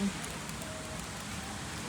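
Rain falls steadily outdoors as an even, constant hiss with no distinct drops, fairly close and unchanging throughout.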